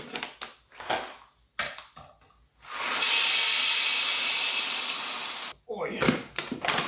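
Rancilio Silvia espresso setup with a burr grinder filled with beans, then grinding loudly and steadily for about three seconds after some rattling and handling clatter, with voices talking before and after.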